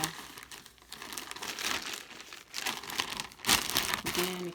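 A plastic Fashion Nova mailer bag holding clothing crinkles and rustles as it is handled and cut open, close and fairly quiet, with irregular crumpling bursts and a brief sharper tear near the end.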